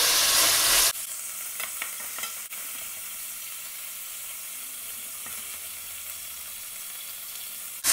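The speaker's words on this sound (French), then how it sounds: "je vais faire revenir au moins 3 minutes, surtout pour les crevettes" Shrimp and smoked turkey sausage sauté in a pan with a steady, close sizzle. A brief louder burst comes at the start, then an even hiss with a few faint clicks from stirring.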